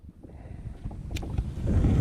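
Strong gusts buffet the microphone out on a reservoir, a rough roar that swells louder toward the end, with no one speaking.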